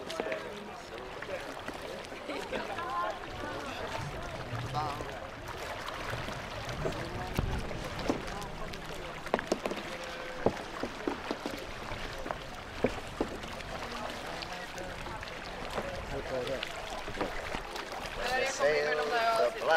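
Activist kayaks paddle on open water near an oil tanker. Soft, faint splashes and water noise sit under people talking throughout.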